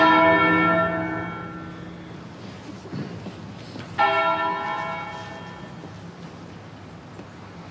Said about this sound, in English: the repatriation of fallen soldiers was marked by a tolling bell rung by Roger Haydock.